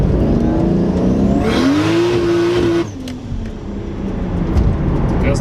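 A turbocharged car engine revs hard in third gear on a winter drive as its cold tires spin; the loud engine note climbs, then drops sharply, then keeps running at a lower, rougher pitch nearby.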